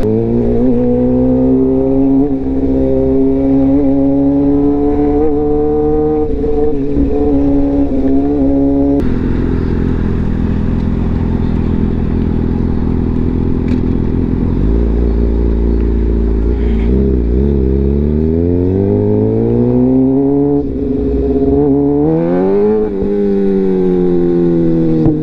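A Suzuki GSX-R 750 sport motorcycle engine heard while riding through traffic, loud and close, holding steady revs then dropping and climbing through several gear changes with swooping pitch sweeps and wind noise.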